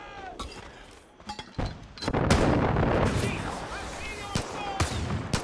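Gunfire in Far Cry 5, with sharp scattered shots and a heavy sustained burst of firing mid-clip, some cracks close and loud, others further off, amid intermittent game sounds.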